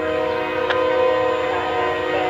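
A passing CSX train led by two locomotives sounds a long, steady horn over a constant rumble of wheels on the rails, loud and close throughout, passing under a signal bridge.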